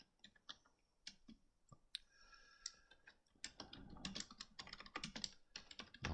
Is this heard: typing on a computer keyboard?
yes